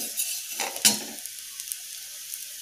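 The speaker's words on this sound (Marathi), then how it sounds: "ही डाळ लवकर भाजली जाते त्यामुळे याला या प्रकारेच आपल्याला हलवत राहावं लागणार" Urad dal being dry roasted and stirred in a pan gives a soft scraping rustle with a couple of brief louder scrapes near the start, then fades to a faint hiss.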